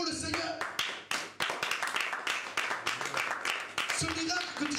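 A church congregation claps in rhythm to acclaim the Lord, steady loud clapping through the whole passage with voices and singing mixed in.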